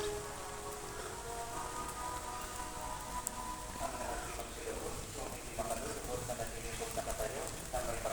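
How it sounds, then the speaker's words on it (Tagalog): Heavy rain pours steadily around a walk at Padre Pio, a dense constant wash with scattered louder drops and faint voices underneath. "Ang lakas ng ulan."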